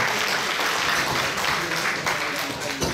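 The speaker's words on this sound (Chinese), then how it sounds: "现在掌声欢迎一下开放文化基金会的董事长哈" Audience applause at a fundraising dinner with a roast wild boar, held by the Open Culture Foundation, a steady wash of clapping from the crowd with voices talking over it.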